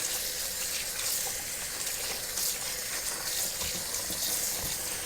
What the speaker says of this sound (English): Rinse it out with cold water a little bit.